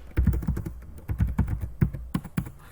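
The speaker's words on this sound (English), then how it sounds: "Go down to the next line and then type your message." Typing an email message on a computer keyboard: clusters of close, crisp key taps in quick uneven bursts with short pauses between, moderately quiet and with no talking.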